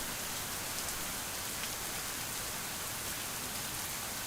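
Steady rain falling on an outdoor deck in a visual novel game, a dense, even wash of drops hissing continuously and fairly loud throughout, with no voices.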